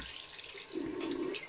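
Cold water runs from a tap for rinsing during a shave with a Wilkinson razor set, a soft splashing stream with a faint low gurgle growing slightly fuller midway, quiet and without voices.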